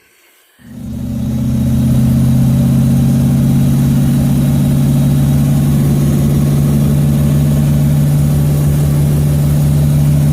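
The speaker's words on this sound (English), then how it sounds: "Here we are driving the Chevette" A V8 engine swapped into a Chevette fires up and settles into a loud, steady, deep rumble that holds close and even throughout, with no talking.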